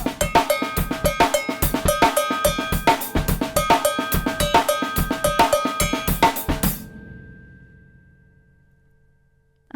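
Drum kit groove built around a cowbell, bright metallic clanks in quick triplet patterns with kick and snare beneath, loud and driving, ending on a ringing final hit that slowly decays.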